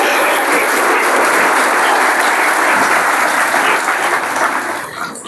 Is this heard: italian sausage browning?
no